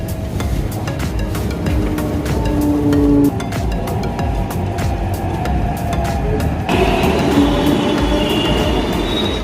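A Hyderabad metro train runs steadily near Secunderabad East station with a loud continuous rumble and rattling, clicks and brief squeals, the tone shifting partway through as the train changes pace.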